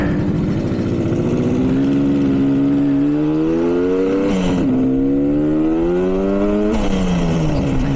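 Engine of a 1967 Yamaha YR1 motorcycle while riding, a loud steady drone that rises in pitch through two gears with brief dips at the shifts, close and continuous throughout.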